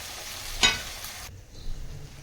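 Garlic and ginger paste stirred and fried with onion in a pan for mutton biryani, a short scraping stir over a steady sizzle that cuts off abruptly partway.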